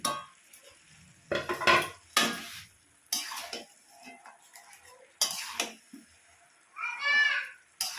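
Fried fish heads go into a pan of cabbage and are stirred in, giving bursts of scraping and clattering spoon-on-pan sounds with quieter gaps of soft sizzling between them.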